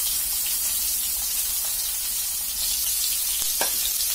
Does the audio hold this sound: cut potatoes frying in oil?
yes